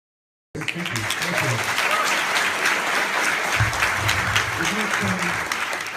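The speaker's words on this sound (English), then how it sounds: "we give them a round of applause for being reasonable and polite" An audience bursts into sustained applause that starts abruptly and holds at a steady, dense level throughout, with a few voices mixed into the clapping.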